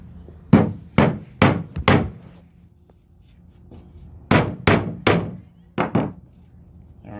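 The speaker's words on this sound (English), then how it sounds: "I gotta start the nail in here because I didn't want to be hammering inside" A hammer drives a nail into a wooden plank outdoors in two quick sets of sharp, close strikes, four then five blows, with a pause of near silence between the sets.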